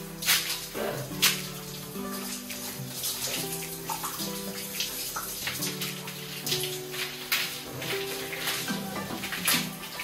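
Running water pours and splashes steadily while long hair is rinsed, a close, continuous shower-like spatter with no talk.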